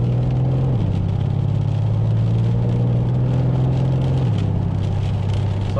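A steady, loud engine drone heard from inside a 630-horsepower Mercedes C63 AMG, its pitch stepping down and then shifting again as the car cruises.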